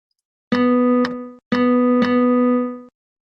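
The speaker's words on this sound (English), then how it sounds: "You'll hear a series of rhythmic patterns played to a metronome beat" Two short bursts of a sustained, bright synthetic tone, each with sharp clicks marking a steady beat, played loud and close with a brief gap between.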